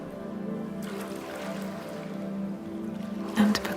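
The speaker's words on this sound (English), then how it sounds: "Every now and then, Yawnsy's tail slaps the water, making a lovely sploshy sound." A tail slaps the water of a cavern pool with soft, sploshy splashes over a steady watery murmur, ending in one louder, closer slap near the finish.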